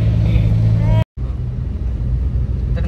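A car drives off with a steady low engine rumble and road noise close by, broken by a brief cut, then continuing evenly as the vehicle moves along.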